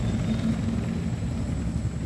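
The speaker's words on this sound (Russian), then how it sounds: "В этот вертолет." Helicopter engine idling steadily in Wolfenstein: The New Order, a constant low rotor rumble with a faint high whine, close and loud throughout with no talk.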